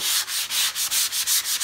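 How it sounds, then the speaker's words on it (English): Rhythmic rasping strokes of a sanding block rubbing back and forth on flat drywall, about seven even passes, close and steady. "I'm gonna do a little light sanding. I'm gonna use a block"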